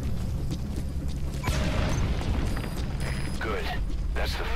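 C4 charges detonate in Metal Gear Solid V: The Phantom Pain, a sudden booming blast followed by rumbling, creaking debris and mechanical clatter that continues at moderate loudness.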